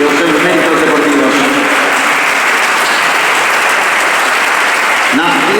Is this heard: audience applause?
yes